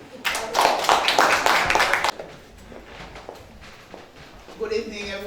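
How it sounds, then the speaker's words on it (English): An audience at a community center soup joumou taste-off gives a burst of applause for a few seconds, loud and close, then it fades into a quieter room where a voice begins speaking. "applaudissez s'il vous plaît"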